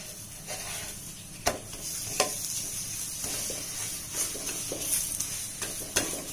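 A beetroot paratha fries in refined oil on a pan, giving a steady, moderately quiet hiss with a few sharp taps and scrapes from a spatula pressing and turning it.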